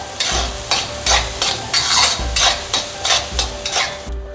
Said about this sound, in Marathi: आता आपण मसाला घालून घेतला आहे फोडणीमध्ये हा आपल्याला तेल सुटेपर्यंत छान परतून घ्यायचा आहे